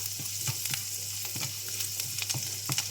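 Butter and garlic sizzle in a pan, a steady close crackle with frequent small pops and spits, heard alone with no talking.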